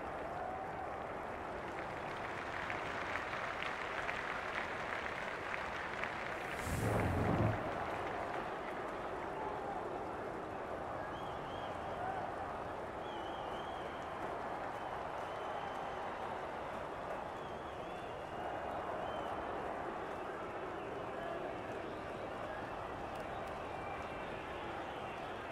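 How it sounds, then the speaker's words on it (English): Continuous stadium crowd murmur before a 2024 AFLW football match between Collingwood and the Western Bulldogs, a broad steady roar with one brief louder swell, under a commentator's voice. "The crowd already making plenty of noise as the captains come together"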